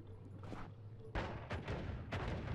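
Explosive spell projectiles from the video game Noita go off in a series of loud, booming bursts: one early, then three sharper blasts spaced roughly half a second apart, with no talking.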